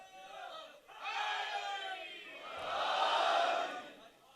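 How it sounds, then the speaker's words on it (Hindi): A crowd at a religious majlis gathering chants slogans in unison, with two loud swelling bursts of massed voices separated by a short dip, close and energetic. "अगर आप इस तरह से नारे लगाएंगे तो फिर तो मैं बहुत पढ़ूंगा।"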